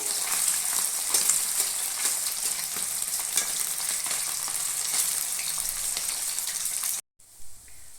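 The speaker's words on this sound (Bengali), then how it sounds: "মাছগুলো ছাকা তেলে ভাজতে হবে।" Small fish rubbed with salt and turmeric deep-frying in hot oil in a kadai, a steady dense sizzle with crackling bursts for about seven seconds, then a sudden drop to quiet with a faint bump near the end.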